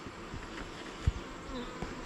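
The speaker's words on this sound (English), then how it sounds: "these are little stingy bees right here" Stinging bees buzz in a hive box nearby, a continuous insect hum with a few louder bumps and thuds, and no talking.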